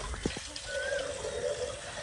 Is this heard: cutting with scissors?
no